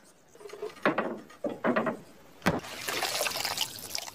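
Wet mopping of spilled liquid on a floor in a film scene, with several splashy, sloshing strokes and a sharp knock, followed by a steady broad wash of liquid noise.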